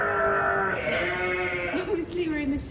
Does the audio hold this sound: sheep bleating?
yes